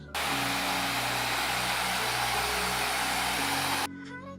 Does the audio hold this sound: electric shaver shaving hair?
yes